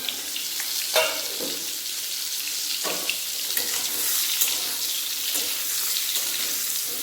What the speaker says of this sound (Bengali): আর ঢাকা দেবো না এমনিভাবে ভেজে নেব